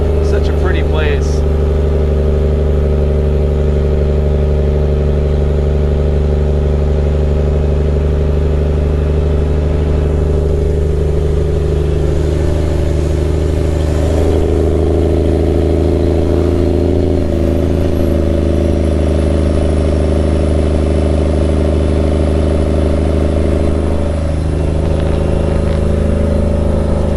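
A loaded dump truck pulling a dump trailer climbs a hill in a chosen gear, its diesel engine droning steadily with a deep roar from the exhaust stacks, continuous and close throughout.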